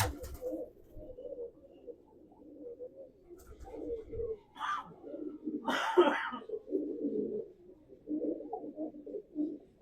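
A Bombay breed pigeon coos in soft repeated rolling phrases close by, with a voice talking intermittently over and between the calls.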